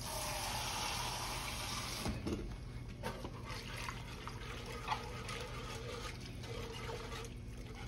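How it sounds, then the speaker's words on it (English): A steady stream of water pours continuously for several seconds into a pan with roux, close by, with a few soft clinks and no voices. "Add a little bit more water"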